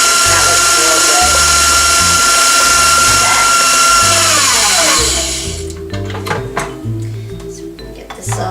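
A kitchen blender mixes eggs into cheesecake batter with a loud, steady motor whir that winds down after about five seconds, followed by clunking and handling noises.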